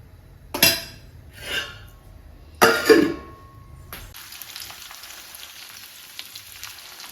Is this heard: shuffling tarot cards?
no